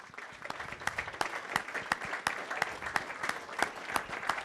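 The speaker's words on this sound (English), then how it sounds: "we want to applaud all of you together collectively" Applause from staff and board members at a school district board meeting, many hands clapping in a steady dense patter with sharp individual claps standing out, moderately loud throughout.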